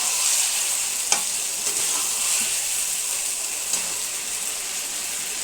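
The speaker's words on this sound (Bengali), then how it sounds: "মাংসটা দিয়ে দিয়েছি। 5 মিনিট তাকে এইভাবেই ভাজবো।" Meat fries in a pan over high heat, a steady, even hiss of sizzling fat with a few sharp pops and crackles standing out, close and uninterrupted.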